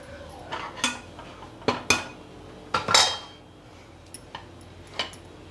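A metal spoon scrapes and knocks against a pan while a thick sweet mixture is scooped into a dish, giving several sharp clinks and clatters with quiet gaps between them.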